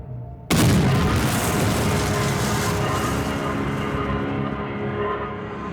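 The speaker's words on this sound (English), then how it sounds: "Just then a mortar shell went off," A World War II mortar shell explosion on D-Day: one sudden, loud blast, followed by a long, dense rumble that slowly fades.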